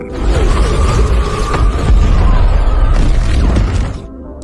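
A loud, dense crash of an ultrasonic cannon shattering in a film, with breaking debris and a deep rumbling boom underneath, sustained for several seconds before cutting off.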